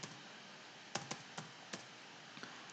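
A computer keyboard typed while entering a folder name during a local PHP web server setup: a handful of sparse, quiet keystrokes spaced irregularly over a steady background hiss.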